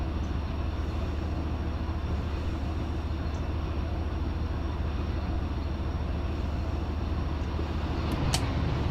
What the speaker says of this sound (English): This is Mark Voigt's new 710 prime mover sounds.